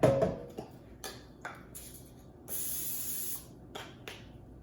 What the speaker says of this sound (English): we're gonna go ahead and spray the bottom so it doesn't stick